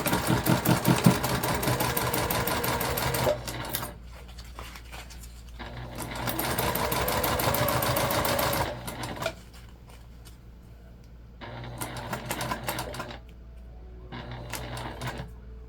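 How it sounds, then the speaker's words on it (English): A sewing machine top-stitches vinyl beach pouches in fast, steady mechanical bursts, running loud for several seconds, pausing, then running again in shorter stretches, with a quiet hum between runs. "As long as you don't skip a stitch when you are top stitching"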